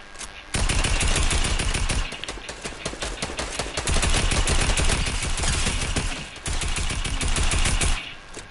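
Sustained loud automatic gunfire in Fortnite aimed at player-built structures, long dense bursts of rapid shots with a couple of brief pauses between them.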